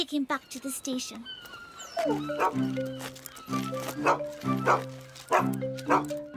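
A dog barks repeatedly in sharp, fairly close bursts, with a few yelps and whimpers mixed among the barks, in the animated series Fireman Sam.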